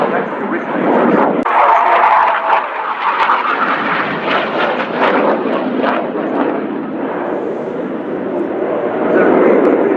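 A Hawk jet aircraft passes overhead at an air display, a loud, broad engine roar sustained throughout, with a commentator talking over the noise.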